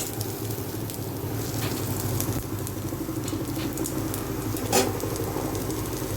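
Dried loitta fish fries in mustard oil, giving a steady crackling sizzle with scattered pops and one sharper spatter near the end, close and continuous with no talking.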